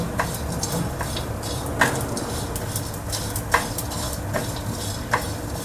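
Cashews and almonds roasting in a pan on a griddle: a steady soft scraping of stirring, with a few sharp clicks as nuts knock the pan, close and fairly quiet.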